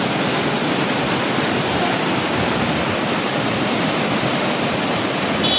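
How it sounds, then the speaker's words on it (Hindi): Waterfall in Nainital rushing with heavy flowing water, a loud, unbroken broadband roar that stays steady from start to finish with no voices. "तो यही है अपनी यूनिक जगह वाटरफॉल, और काफ़ी शानदार वाटरफॉल चलते हुए नज़र आ रहा"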